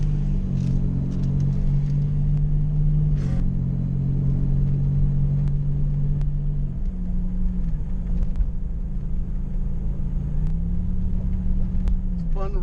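Buick Grand National launching down a quarter-mile drag strip with wheelspin off the line, a loud low engine drone that holds, dips and rises again as it pulls away, with voices over it.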